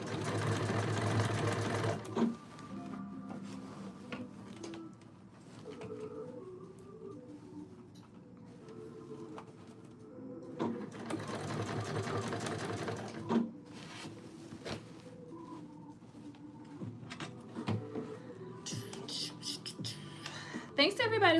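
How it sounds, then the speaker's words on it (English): A sewing machine runs in steady stretches of top stitching with short pauses in between, heard close and clear while a voice talks throughout. "This needs a little top stitching, personally."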